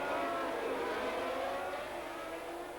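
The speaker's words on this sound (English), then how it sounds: "The engine revs rise" Formula One engines rev at the start of the 1980 Dutch Grand Prix at Zandvoort, a distant, faint, sustained high mechanical drone that rises and holds, heard from afar.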